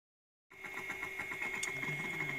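A MiniScribe hard drive's stepper motor running a scan: after half a second of silence, a steady, close mechanical whir with a fast rhythmic buzzing chatter starts and continues evenly, with no talk.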